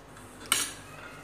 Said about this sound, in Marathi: मिश्रण छान मिक्स करून घ्या।